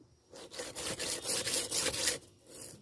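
A knife blade laid almost flat against a sharpening stone, scraped in a steady series of rough back-and-forth strokes, close and fairly loud with no voices.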